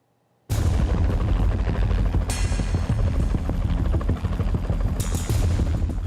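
Black Hawk helicopters roar in abruptly during a night raid by U.S. troops on a large apartment building, loud and close, with sharp bursts of gunfire cracking through the sustained rotor din.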